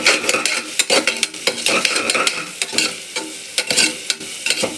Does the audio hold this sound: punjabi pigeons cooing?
no